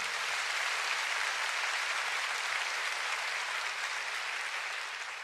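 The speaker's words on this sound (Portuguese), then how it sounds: "Você pode aplaudir ao Senhor, Ele é maravilhoso." A church congregation applauds during a service, a broad, even roar of many hands clapping in a large room, sustained for about five seconds and slightly distant.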